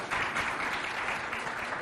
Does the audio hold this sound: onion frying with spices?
no